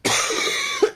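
A single harsh, raspy cough from a person ill with COVID-19, close and loud, ending in a short throaty catch.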